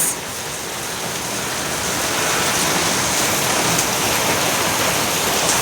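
Steady, dense rushing of rain pours continuously, a loud even wash of noise with no voices.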